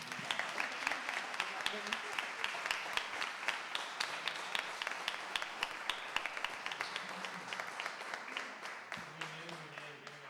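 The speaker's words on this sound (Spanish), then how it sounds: "Un aplauso." Audience applause at the close of a talk on humanizing cancer care, from diagnosis to palliative care: steady, dense clapping from a room of listeners, with faint voices underneath.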